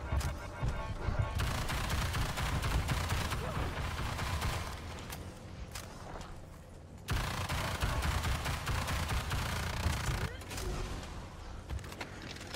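Video-game gunfire sprays at the monster in Evolve in long, rapid bursts, loud and continuous with brief pauses, while players talk over it.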